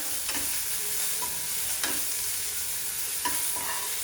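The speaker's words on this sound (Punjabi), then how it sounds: "ਪਿਆਜ਼ ਪਾਵਾਂਗੇ ਪਹਿਲਾਂ ਥੋੜਾ ਜਿਹਾ ਸੌਟੇ ਕਰਾਂਗੇ" Onions sautéing in a metal pan for veg poha, a steady close sizzle with a few distinct scraping stirs of the spoon against the pan, no voices.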